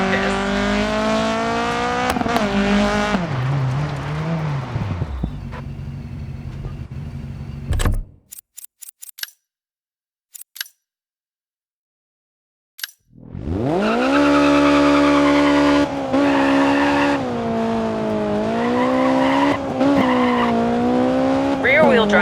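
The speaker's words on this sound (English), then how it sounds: "why not try initiating a little oversteer with the handbrake through a few turns to practice?" Rally car in Dirt 4 revving hard through turns with a handbrake-initiated oversteer slide, engine note climbing and dropping, a brief near-silent break mid-way before the loud engine returns.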